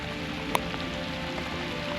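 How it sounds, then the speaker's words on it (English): Steady rain falls around an angler on the Ottawa River, a broad soft patter filling the whole stretch at an even level, with one brief sharp tap partway through. "Well, I'm not afraid of a bit of rain"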